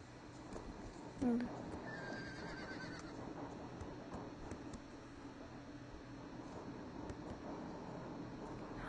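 A horse whinnies once near the start in the video game Star Stable, then hooves clip-clop steadily over a constant hiss of ambient noise.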